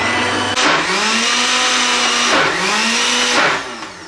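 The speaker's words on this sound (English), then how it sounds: "We'll get our lid on it, and I'm going to blend this up." A struggling, worn-out kitchen blender whirs loudly through an egg mixture for Welsh rarebit, its motor pitch dipping and rising twice as the load shifts, then cutting off at the end.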